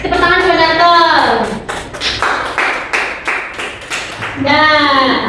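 Schoolchildren clapping in a classroom during a religious-morals lesson, a short burst of rhythmic claps between stretches of someone talking before and after.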